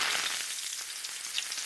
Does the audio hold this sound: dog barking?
no